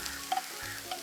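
Broad beans frying in oil in a pan for a Jaffna-style curry, a soft steady sizzle with a couple of light scraping stirs, close up and with no talking.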